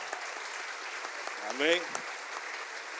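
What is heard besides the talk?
church congregation applause for a sister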